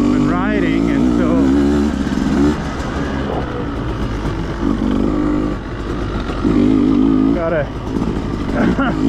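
Beta 200RR dirt motorcycle riding through dusty desert terrain, its engine droning loudly and steadily with rising revs, while a rider talks over it.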